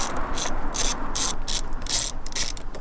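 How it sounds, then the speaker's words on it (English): A ratchet loosening the side screws holding a steering wheel airbag in a street-legal racecar build, rapid clicking bursts repeating in quick succession, close and clear with no talk. "first thing to do to remove this airbag is to take these screws out on the side."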